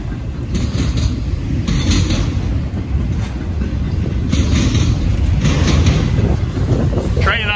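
A long freight train with auto racks and intermodal cars rolls into a rail yard, producing a steady rumble and rhythmic clacking of wheels, with wind buffeting the microphone and brief bursts of louder passing noise.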